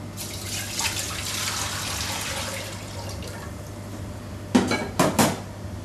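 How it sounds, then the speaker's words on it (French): Water being poured into a pot to start a rhubarb syrup, a soft rushing pour early on followed by a few sharp clanks of pots and utensils near the end, close with no talk. "Pour le sirop, nous mettons deux litres d'eau."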